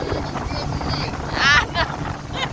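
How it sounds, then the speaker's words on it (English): Cold wind gusting over the Congaree River while out fishing on a boat, a steady rumbling buffet with a brief stronger gust mid-clip and a voice heard over it. "Ooh, that wind is cold."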